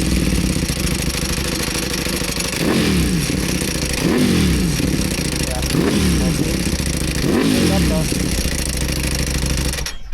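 A Ducati V4R motorcycle engine runs loud and close with a rough, clattering drone, repeatedly swelling and falling as the throttle is blipped, with people talking faintly over it.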